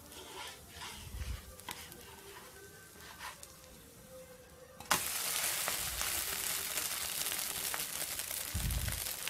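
Egg dosa frying on a hot pan gives a soft crackle with faint taps that jumps to a loud, steady sizzle about halfway through and continues to the end.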